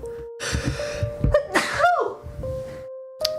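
A sharp gasping inhale builds into a loud, explosive sneeze, followed by a trailing breath, close up.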